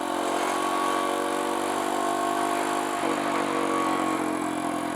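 A Kawasaki KLX170 dirt bike rides around a neighborhood, its engine droning steadily with a slight shift in pitch midway, loud and close.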